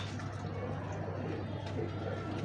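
Soft, low cooing of a Royal Teddy pigeon repeats steadily against a constant background hum, with no voices present.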